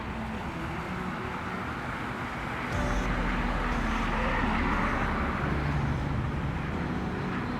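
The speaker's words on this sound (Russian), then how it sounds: "Там самолетик." A small airplane flies overhead, a steady broad engine drone that grows a little louder partway through and stays continuous, with no talk over it.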